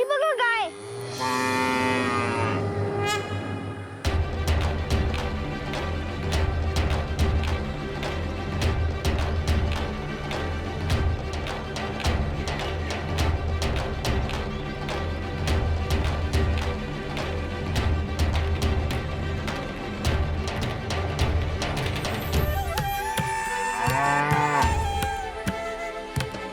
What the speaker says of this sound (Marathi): वर ती बघा गाय.